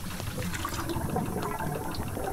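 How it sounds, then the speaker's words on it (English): A bathtub draining in the video game Botany Manor, a gurgling, flushing rush of water that stays fairly steady over a couple of seconds, with no voices. "Okay, drain it."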